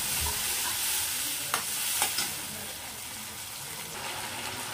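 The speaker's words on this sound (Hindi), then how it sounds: "हमें मसालों को अच्छी तरह से भून लेना है" Ground spice paste stir-fried in a kadhai for potato kofta curry, a constant close sizzle with a few distinct scraping strokes of a spoon against the pan partway through, no talking.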